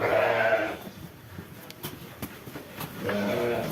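Two loud, drawn-out bleats from rams eating feed, one at the start and one at the end, with quieter rustling and shuffling of animals nearby in between.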